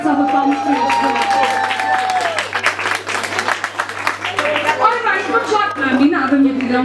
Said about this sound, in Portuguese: Uma grande salva de palmas para este.